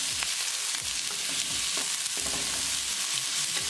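Onions stir-fry in a pan during a matar paneer recipe, a steady close sizzle with the light scrape and clatter of a spoon moving through them.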